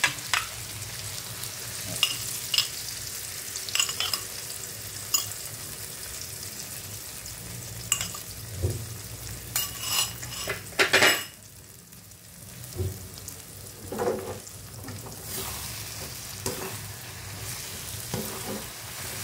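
Eggs cooking with bitter gourd (ampalaya) in a pan, three eggs in all, giving a steady close sizzle with intermittent scraping stirs and a brief louder clatter midway, no talking.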